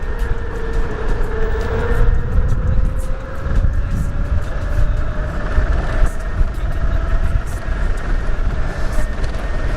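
Fidico Black Knight vehicle riding in first gear at about 50, a continuous engine and motor whine with steady road and wind rumble and a rising tone throughout.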